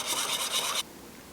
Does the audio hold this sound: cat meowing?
no